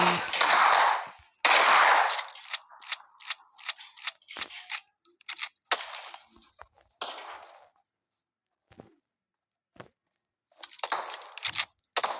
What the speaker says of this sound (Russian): почти сразу же выстрелили.